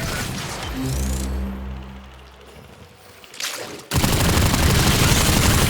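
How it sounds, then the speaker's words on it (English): In Warframe on Deimos, weapon fire hits an infested hive: quieter rattling shots and rumbling give way to a sudden, loud, sustained barrage of gunfire and crashing debris. "Destroy it with weapon fire."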